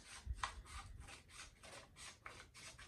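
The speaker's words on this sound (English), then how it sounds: "I just take a pair of scissors, okay? Use paper scissors, don't use your fabric scissors, okay? And just cut around." Paper scissors cutting through embroidery stabilizer paper around a hooped piece: a quick, steady run of about eight crisp snips, close and quiet, with no talking.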